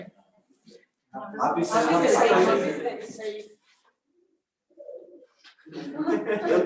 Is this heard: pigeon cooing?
yes